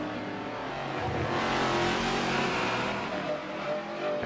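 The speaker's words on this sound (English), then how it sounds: "Sunny Flair has finally passed Shouka for the first time in this race" Race cars in the Forza Motorsport 7 video game roar past together, their engine drone swelling loudly and then easing off, with no voices heard.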